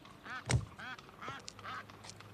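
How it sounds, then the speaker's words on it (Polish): A duck quacks from inside a car trunk, several nasal, muffled quacks in an irregular series, fairly faint and enclosed. "Pani magister melduje, że coś kwacze w bagażniku."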